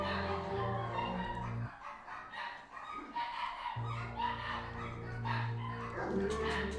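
Dogs bark repeatedly amid a mix of animal calls that resembles roosters crowing, moderately loud and continuous over background noise.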